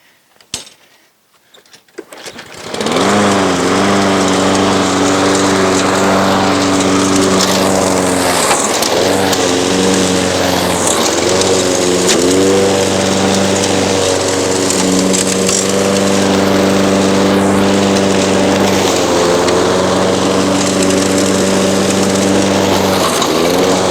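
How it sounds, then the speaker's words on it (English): A push lawn mower with a grass bag runs steadily while cutting grass, its engine starting up after a couple of seconds and then holding a loud, continuous droning hum up close with slight dips in load. "I'm going to use my push mower"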